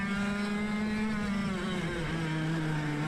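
Go-karts race around a track during a practice session, their small engines whining steadily and close, with the pitch rising and falling slightly, and no one talking.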